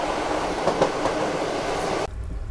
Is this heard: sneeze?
no